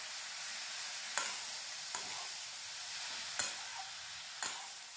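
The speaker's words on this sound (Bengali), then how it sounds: "বেশ কিছুক্ষণ নাড়াচাড়া করে নিচ্ছি" Bottle gourd frying in a pan with a soft, steady sizzle, stirred with a utensil that scrapes and taps the pan four times at roughly even intervals, quiet and close with no talk.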